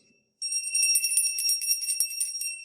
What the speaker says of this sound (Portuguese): vou apresentar para vocês o nosso sino da EBD, olha.